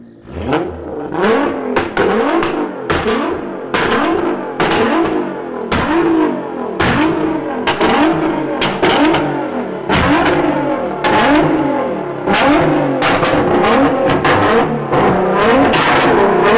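Nissan R35 GT-R NISMO engine revving hard inside a tunnel, loud repeated throttle blips with sharp pops and crackles, echoing continuously with no talk.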